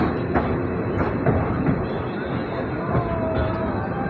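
Passenger train pulling into Gidderbaha station on the run toward Ganganagar: a steady, continuous rumble of rolling wheels and carriages with faint clatter and a distant murmur of voices throughout.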